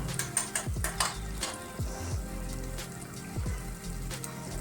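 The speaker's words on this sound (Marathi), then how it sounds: "हे सर्व छान आपल्याला तेलामध्ये परतून घ्यायचं आहे" Finely chopped red tomato and other ingredients are sautéed in oil in a pan, with a low sizzle under repeated clattering spoon strokes and knocks against the pan, and no one speaking.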